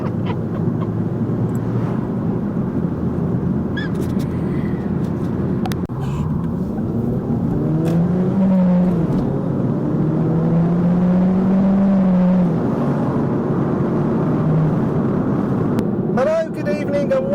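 A car driving on an evening trip for food, heard from inside as a steady loud road and engine rumble that persists throughout, with engine pitch rising and falling as it changes speed.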